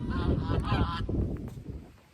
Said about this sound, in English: Geese are still protecting them from predators